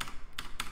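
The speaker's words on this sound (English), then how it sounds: "press your tilde key on your keyboard" A few quick, crisp taps on a computer keyboard as the tilde key is pressed to open a game console, close and dry, in a very short burst.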